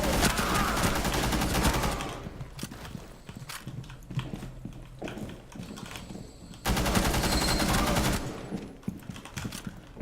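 Gunfire in the video game Rainbow Six Siege, loud sustained bursts of automatic fire with a fairly low rate, broken by a pause and then another long burst, with brief quieter clatter between.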